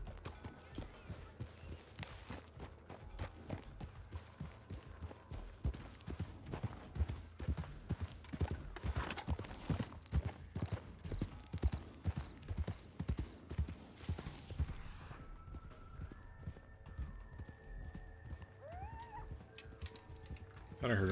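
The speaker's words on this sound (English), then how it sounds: "Thought I heard a horse." Rhythmic horse hoofbeats in a video game clip-clop steadily in the middle, moderately close, with a voice talking at times and a soft neigh-like sound near the end.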